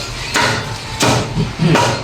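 Three sharp hammer blows spaced roughly evenly apart while something is being put together, each a short bright impact standing out over low background noise.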